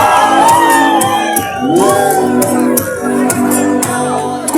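A concert crowd at a live music show cheers and whoops loudly and close, with shouts and wavering voices layered over a steady roar. Scattered sharp claps run throughout, and an amplified voice calls out over the noise.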